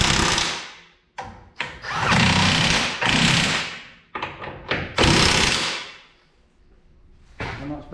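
A power tool runs bolts back into a Peugeot 207 engine during refitting, in several loud close bursts of rattling impact noise separated by short pauses and quieter gaps.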